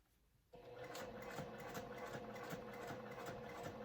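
A sewing machine stitches steadily at a slow, even pace, starting after a brief quiet moment and running as a continuous mechanical whir with a soft repeating needle beat, close and clear with no talk.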